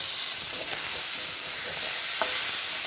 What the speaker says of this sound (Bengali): এবার এই ভেজে রাখা মাছগুলো দিয়ে দেবো।